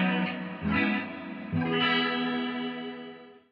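Electric guitar on the bridge pickup played through a 30-year-old Rocktek CHR-01 chorus pedal, with sustained shimmering chords restruck twice over a few seconds, close and fairly loud, no voice.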